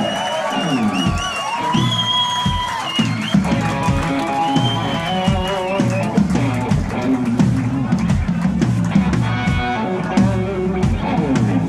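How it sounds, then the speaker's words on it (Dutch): A bar crowd at a live band gig cheers and whoops loudly over music, the roar of voices sustained throughout as a performer is welcomed back on stage. "Geef hem een waanzinnig applaus aan Mr."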